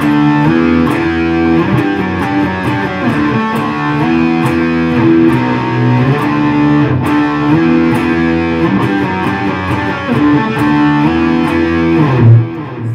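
Distorted electric guitar playing an intro riff, loud and continuous with heavy sustained chords and bends, with steady high ticks running through.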